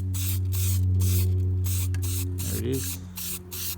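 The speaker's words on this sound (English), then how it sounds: "priming the splitter, just to see where we need to work on in terms of the surface being even enough" Primer sprayed in light bursts onto a custom fiberglass front splitter, several hissing passes with short gaps between them, close and fairly loud over a steady low hum, with a brief spoken comment near the end.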